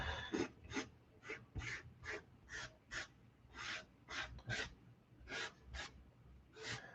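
Brown Conte stick, a waxy charcoal-like chalk, drawing a figure on paper, heard as a series of short scratchy strokes in an uneven rhythm, close and fairly quiet with no talk.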